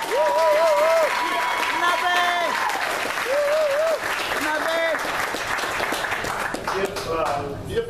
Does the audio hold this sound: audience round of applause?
yes